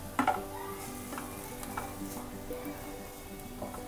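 Poha spiced with garam masala is stirred and mixed in a frying pan, soft scraping strokes over a low sizzle, with a sharp utensil clink near the start, close and quiet with no talking.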